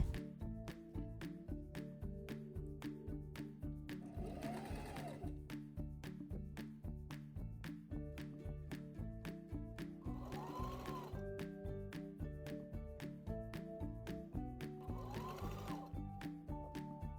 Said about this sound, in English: I'm using a straight stitch to do this and using a regular stitch length.